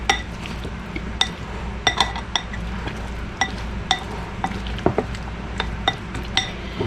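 Green bean salad stirred in a bowl, with a quick series of clinks and taps from a utensil against the dish, irregular but steady, close and clear with no talk.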